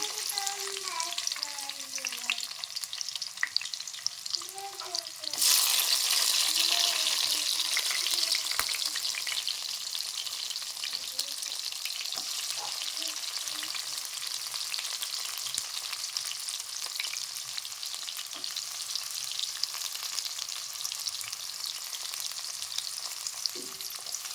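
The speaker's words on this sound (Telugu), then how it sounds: "ఆయిల్ అనేది బాగా వేడెక్కేసింది ఇప్పుడు మనం కట్ చేసుకున్న పచ్చిమిర్చి ఆనియన్స్ పచ్చిమిర్చి వేసుకున్నాము" Green chillies and onions sizzle in hot oil, a loud steady frying hiss that jumps up sharply as they hit the pan and then settles into continuous crackling with occasional stirring, close up with no talk.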